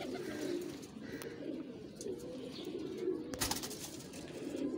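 Several male pigeons coo in low, continuous rolling calls, close by and fairly steady, with a brief wing flutter or clatter partway through; no talking.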